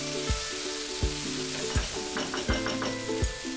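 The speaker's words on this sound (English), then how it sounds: "Then add 2 tomatoes chopped and fry it until the tomatoes are nice and soft." Chopped tomatoes and onion fry in a pan for coriander pulao, a steady sizzle punctuated by regular thumps and scrapes of stirring, with a faint tonal hum underneath.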